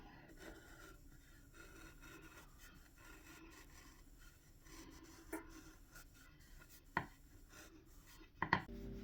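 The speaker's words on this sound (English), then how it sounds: "a sharpened chisel does the job eventually" A sharpened chisel shaves strands from a piece of wood with faint, close-up scraping and rasping, ending in a few louder knocks and scrapes.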